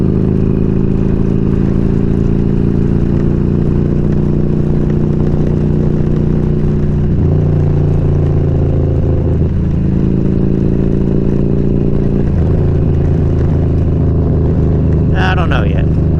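A motorcycle engine idles roughly at low RPM, a loud, steady, close drone with slight changes in pitch, and a voice talks over it.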